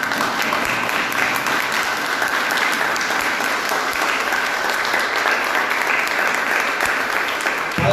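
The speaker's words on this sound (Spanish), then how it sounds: "¿Por qué no le damos un fuerte aplauso al Señor?" A church congregation gives loud, dense applause for the Lord, continuous clapping from many hands that holds at full strength for the whole stretch.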